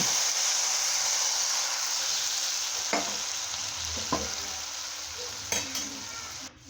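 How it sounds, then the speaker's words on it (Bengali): Taro stolons cook with hilsa fish heads in a frying pan, giving a loud, steady sizzle with a few scattered scrapes and taps of a stirring spoon before the sound cuts off. "আর এখন নেড়ে চেড়ে দিচ্ছি।"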